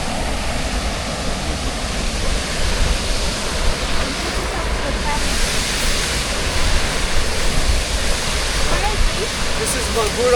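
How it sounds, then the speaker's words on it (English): Magura Waterfalls in the Aberdare forest, near the Queen's Caves, pour in a steady, loud, broadband roar of falling water. It holds constant across the whole stretch with no pauses. "This is Magura Waterfalls"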